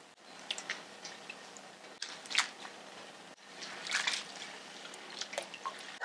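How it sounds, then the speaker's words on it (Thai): Vietnamese-style rice noodles being rinsed in water to wash off starch: close wet splashes, drips and squishy handling in short bursts, separated by brief pauses. "เอาเส้นก๋วยจั๊บยวนนะคะล้างแป้งออกก่อนค่ะ"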